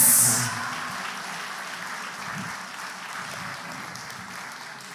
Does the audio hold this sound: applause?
yes